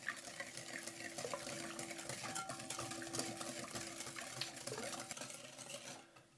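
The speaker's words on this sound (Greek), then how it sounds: "Ανακατεύουμε" Vegan two-colour cake batter with orange zest is stirred by hand without a mixer, giving a soft continuous wet swishing and scraping in a bowl with light utensil clinks, close and quiet, with no voices.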